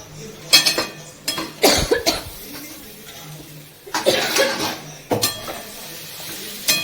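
Potato bhaji being stirred in a pan, with a few separate scraping and clinking bursts against the metal and short quiet gaps between them; a cough or chuckle is heard near the strokes.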